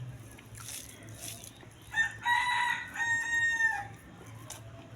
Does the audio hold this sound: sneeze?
no